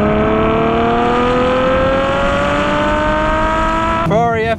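Loud Ferrari F12 with its 6.3-litre V12 revs steadily while driving, the engine note rising smoothly in pitch before a sharp shift near the end.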